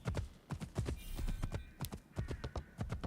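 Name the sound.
horse hooves in video game Assassin's Creed Shadows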